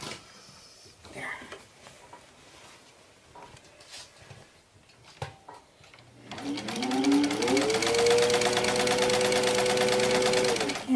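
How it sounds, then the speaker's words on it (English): An antique Singer sewing machine stitching a cloth bag starts up after a stretch of quiet handling and soft talk, then runs in a fast, loud, even mechanical chatter that rises in speed. "I love antique Singer sewing machines"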